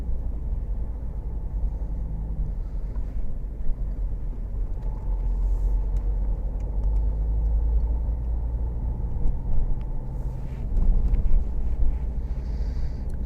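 Car driving on a back road from Cheriton toward Hythe, heard from inside as a steady low engine and road rumble with faint wind, continuous throughout with no talk.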